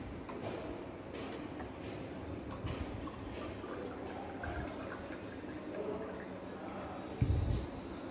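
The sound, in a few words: pouring water into a mojito drink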